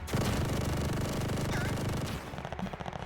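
Gunfire in a Call of Duty game, a dense rapid automatic burst, loud and continuous for about two seconds before thinning into scattered shots, with no talk.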